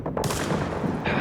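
Gunfire in The Division video game, a dense continuous burst of rapid shots, loud and close, with no voices over it.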